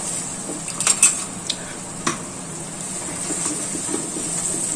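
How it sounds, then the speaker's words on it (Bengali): Spices are stirred and fried in a pan for chicken bharta, with a cluster of metallic spatula clanks and scrapes up front over a light steady sizzle that carries on alone. "এবার মশলাগুলো দিয়ে ভালোভাবে কষাতে হবে।"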